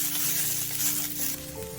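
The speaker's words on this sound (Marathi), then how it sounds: "थोडंसं तेल घातलं की वाटाणे द्यायचे लगेच भाजतात" Green peas fry in a little oil in a pan for a spicy matar sabzi, giving a steady, close sizzle that is loud and continuous with no talking.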